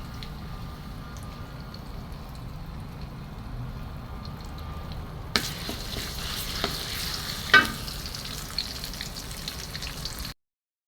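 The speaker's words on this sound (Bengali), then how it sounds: "সরিষাটা হালকা একটু ভাজা হইতে হবে" Mustard seeds fry in hot mustard oil for a bilimbi pickle, giving a close, steady sizzle that grows louder midway, with a few sharp pops and utensil clicks before it cuts off abruptly.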